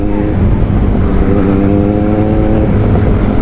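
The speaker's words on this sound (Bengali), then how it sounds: "কতটা লং হুইলি করছে দেখো" A Kawasaki Z900 motorcycle holding a long wheelie, its engine a loud, steady, close drone that runs unbroken from start to finish.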